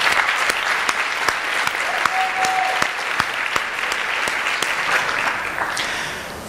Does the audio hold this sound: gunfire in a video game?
no